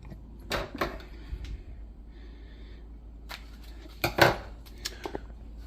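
Scissors trim the very top of a potted coleus plant, giving a few faint, sharp snips and small clicks in a quiet room, with one brief cluster louder than the rest.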